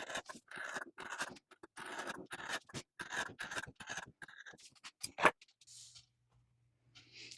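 Scissors snip fabric around a paper towel laid on top as a guide for a jar topper, giving a quick run of close, soft scratchy cuts that ends with one sharper snip before falling quiet.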